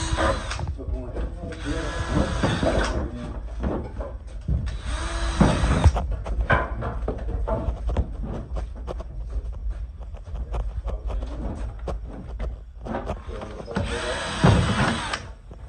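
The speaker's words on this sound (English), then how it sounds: "Drilling for our marks." A power drill whirs in several short bursts while drilling marks on a mobile home roof, stopping and starting, with people talking nearby between and over the runs.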